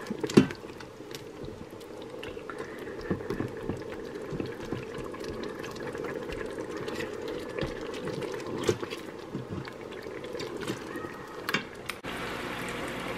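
Fire-roasted tomato chicken sauce simmers in a 10-inch pan, giving a soft, continuous bubbling and popping under a low background hiss, with occasional small clicks and no talking.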